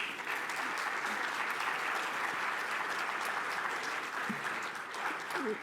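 An audience at a panel event on multisectoral collaboration and funding applauds a welcomed guest, a broad, even wash of many hands clapping steadily and fairly close for several seconds, with faint murmurs beneath.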